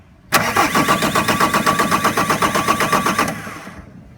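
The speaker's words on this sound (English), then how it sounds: "simply turning the engine, I will be able to see a leak or hear a leak" The diesel engine of a Bobcat 763 skid steer cranks over with a rapid rhythmic chugging from the starter for about three seconds, then stops without catching.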